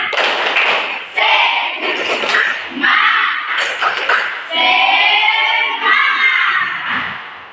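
A group of children in a classroom chant and shout an Indonesian 'tepuk semangat' clap chant together in rhythmic bursts, with claps and thumps marking the beat, loud and close.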